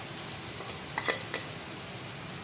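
Arbi (taro root) roasts in masala in a pan with a steady soft sizzle and fry hiss, broken by a couple of faint spoon taps or stirs near the middle, no speech.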